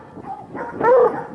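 Outdoors at night, hunting dogs bark and yip at a raccoon treed in a maple. The barks are short and moderately close, rising to a louder, strained bark near the end.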